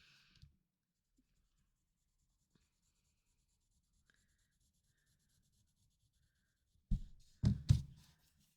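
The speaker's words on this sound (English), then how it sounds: "I kind of pushed seemingly a little bit hard with the pencil." A pencil pressed hard on paper in a Zentangle drawing scratches out a few quick, close rubbing strokes near the end after a long near-silent stretch.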